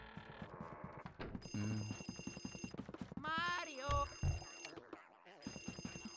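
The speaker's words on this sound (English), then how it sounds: "There's a phone ringing?" A game telephone in Luigi's Mansion rings in short repeated electronic bursts alongside game music and effects, while someone talks over it.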